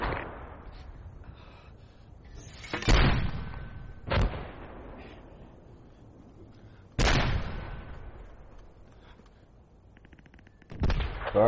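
Heavy artillery in a video game fires on a marked target: four separate booming blasts spaced a few seconds apart, each a sharp crack followed by a rolling decay, loud against a quiet background.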